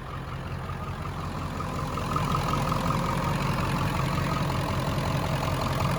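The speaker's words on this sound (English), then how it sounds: "That's a good truck. Listen how good this motor sounds." A hood-stacked 7.3 diesel truck engine idles close by with a steady, deep, rumbling chug that swells a little louder partway through and holds constant, with no talking.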